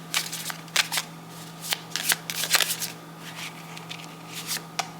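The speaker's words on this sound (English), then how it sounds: "get all of these oracles shuffled out" A deck of oracle cards is shuffled close up in quick, repeated riffling bursts with short pauses between, over a faint steady hum.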